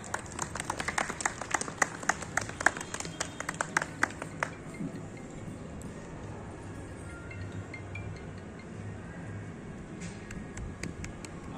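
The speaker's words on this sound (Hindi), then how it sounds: "तालियां तो बजती रहनी चाहिए।" Scattered, sharp claps from a small audience at a spring cultural ceremony in a park, lively for the first few seconds, then thinning into a murmur before a brief final patter of clapping.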